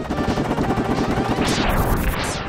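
Rapid arm-cannon blasts from Mega Man X ring out in a dense, continuous volley over game music, with two rising whooshes sweeping up near the end.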